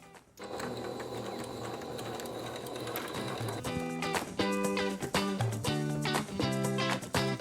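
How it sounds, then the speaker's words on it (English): Sewing machine stitching an elastic waistband onto a pleated skirt: a loud, steady mechanical whir that becomes a series of rapid stitching bursts with brief pauses, close up and with no voices. "we're gonna go ahead and stitch very close to the edge of the elastic to reattach the elastic waistband to the skirt"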